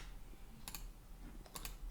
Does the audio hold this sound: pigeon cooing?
no